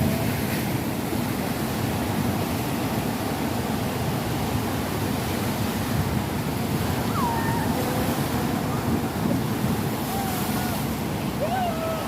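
Big waves crash and surge on a beach in Hong Kong, a loud, steady wash of surf roaring throughout, with faint distant voices and wind noise mixed in.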